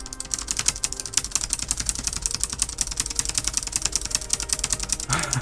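A computer keyboard's numeric-pad 0 key is hammered rapidly with two fingers while the Final Fantasy XIV online game runs, giving a dense, steady stream of sharp clicks close to the microphone over a low background hum.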